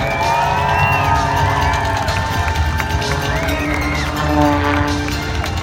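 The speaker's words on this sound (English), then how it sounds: "Rhode Island, make some noise for Sean D. Tucker." A large outdoor crowd at the 2018 Rhode Island Airshow cheers and shouts continuously, a broad roar of many voices with occasional whistles and rising calls.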